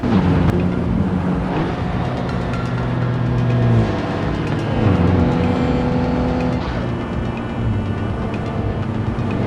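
Car on a high-speed night run through traffic, its engine droning loud and close with shifting tones as it accelerates and eases off, plus the rush of passing vehicles.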